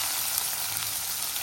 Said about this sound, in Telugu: అన్నం ఉంటే తాలింపు వేస్తున్నాను